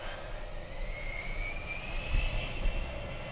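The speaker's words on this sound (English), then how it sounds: "Why can't he take off? Oh, he can. Bro, he is slow. That is a slow plane." A slow plane takes off in the video game Besiege, giving a steady, moderately loud aircraft engine drone. A faint whine climbs gradually in pitch, and a few low thumps land near the end.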